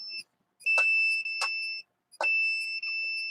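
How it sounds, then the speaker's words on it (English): An alarm triggered over and over by a heat or light sensor during a test on the chest and back, giving sharp electronic tones in short bursts with gaps of silence between them, close and loud. "Whereas here, it's triggering the alarm all the time."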